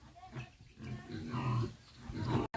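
A pig, kept alongside a pregnant sow on a farm, grunts and oinks repeatedly at close range in a continuous, rough series, with faint background noise and a brief dropout near the end.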